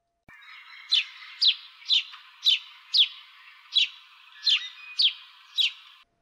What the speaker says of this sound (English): House sparrows are an invasive species